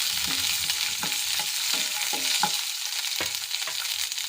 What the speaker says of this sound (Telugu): వెల్లుల్లిపాయలు, పచ్చిమిర్చి వేసుకొని బాగా కలుపుకోవాలి.